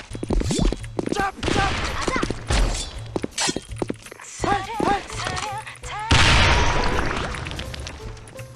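In the online shooter Sudden Attack, rapid gunfire, impacts and an explosion from a thrown bomb burst loudly and close, ending in a sustained blast rumble, with a player's voice heard in between.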